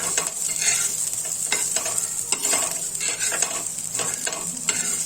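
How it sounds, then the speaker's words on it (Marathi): Peanuts dry-roasting in a pan while being stirred, a continuous close scraping and rattling with faint sizzle and frequent short stirring strokes throughout, for a green chilli and peanut thecha. "शेंगदाणे आता पूर्ण भाजले पाहिजे"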